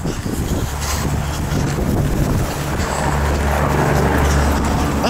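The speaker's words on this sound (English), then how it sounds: "it is so windy" Strong wind buffets the microphone in loud, rumbling gusts, with a constant low roar and rushing noise throughout, outside a Giant Eagle store in Delaware, Ohio.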